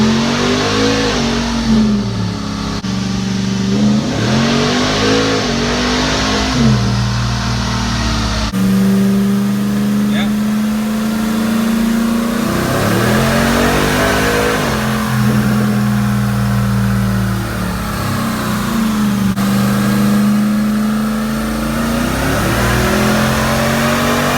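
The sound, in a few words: car engine revving on a Dynojet dynamometer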